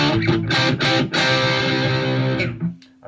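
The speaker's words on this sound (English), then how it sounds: "now if I flick this switch on my amp, I'm now going to get a distorted sound." An electric guitar played through an amp switched to overdriven distortion rings out in loud, growly strummed chords that sustain and then cut off near the end, with no talking.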